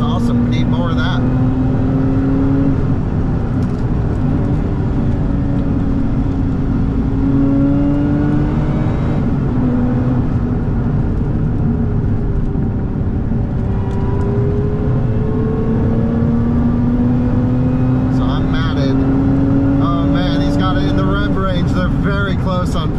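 A Lotus Emira V6 with a manual gearbox pulls hard under full acceleration, its engine droning loud and steady inside the cabin with rising tones and a gear change partway through, while a person talks over it.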